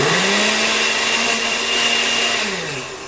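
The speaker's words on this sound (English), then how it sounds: "I've just been taking my brown rice and grinding it" About one and a half cups of brown rice being ground into flour by a motorized grinder: a steady, loud, high-pitched whir that holds for about three seconds, then begins to wind down near the end.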